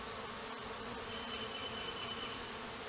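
A swarm of bees buzzes continuously in a dense, even drone, with individual insects whining close by at moments and no voices present.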